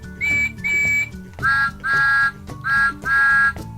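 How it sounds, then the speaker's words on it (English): Cartoon train whistles of Thomas and Percy, six short tonal toots in pairs with a bright, reedy pitch, loud and alone over a faint music bed. "Thomas and Percy couldn't stop blowing their whistles"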